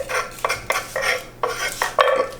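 A knife cutting the top off a garlic bulb for roasting, heard as a series of close, sharp taps and scrapes against a board in an uneven rhythm, without talk.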